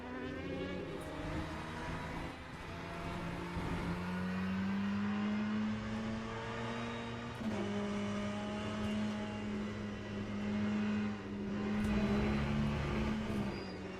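Race car engines in Le Mans Ultimate, a steady droning engine note that rises and shifts in pitch through gear changes, with other cars humming faintly in the background and no talking.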